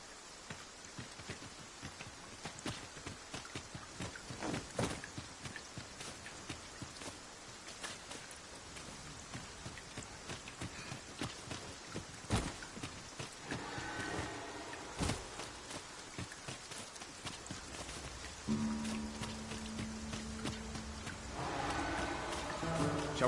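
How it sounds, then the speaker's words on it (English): Steady rain falls across an outdoor scene in the video game Dragon's Dogma 2, a continuous patter with scattered nearby drops, and faint other game sounds join it near the end. "The rain ought to abate soon enough."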